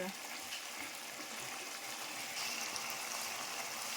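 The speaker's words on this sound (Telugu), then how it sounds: "ఆ వాటర్ మొత్తం ఇంకిపోవాలి అప్పటి వరకు ఉడకనియాలి" A tomato kurma curry simmers in a pot, giving off a faint, steady hiss and bubbling that continues without a break.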